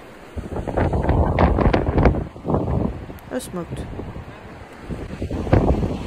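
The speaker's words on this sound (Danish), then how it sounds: "Også selvom det blæser." Gusty wind buffets the microphone on the Caminito del Rey mountain trail in Spain, a steady rushing roar with swells throughout, under close talking.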